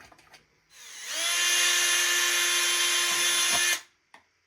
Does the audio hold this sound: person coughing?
no